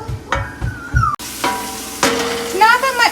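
Onions sizzling in a hot pan for a shrimp curry, with a spoon stirring and scraping in short bursts, close and busy, and brief clinks between.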